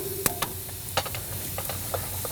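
Shallots sautéing in a pan as the base for corn porridge, a soft steady sizzle with a few sharp clicks and taps of a utensil against the pan, close and fairly quiet.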